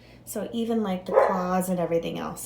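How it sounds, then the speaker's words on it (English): A dog barks and yips a few times close by, its short harmonic barks coming in a quick cluster while a person keeps talking over them. "Sorry for the dog barking."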